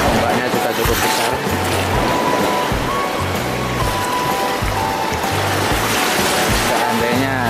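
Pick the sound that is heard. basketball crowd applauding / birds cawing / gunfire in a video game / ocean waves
ocean waves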